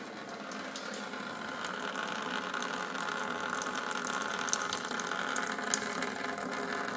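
Coolant drains steadily out of the radiator of a 2025 Chevy Colorado ZR2, a continuous close hiss and trickle of liquid with faint mechanical ticks and no talking.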